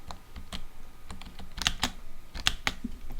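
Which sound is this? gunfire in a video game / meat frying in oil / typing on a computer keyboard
typing on a computer keyboard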